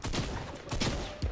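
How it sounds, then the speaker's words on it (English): Gunfire in the video game Fortnite comes as a quick burst of several sharp, close shots in rapid succession within a brief moment. "Somebody's shooting."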